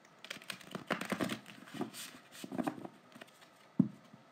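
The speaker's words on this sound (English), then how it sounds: "God, these are not easy to shuffle." A new tarot card deck being shuffled by hand, giving a run of soft papery riffles and crinkly card rustles with a sharper snap near the end, close and fairly quiet with no talking.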